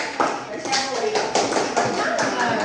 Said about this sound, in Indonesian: Sekali lagi tepuk tangan untuk kelompok tiga